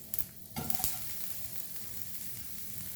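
Onion and tomato fry in a pan with no oil over low heat. A few soft clatters as they go in lead into a low, steady hiss and crackle.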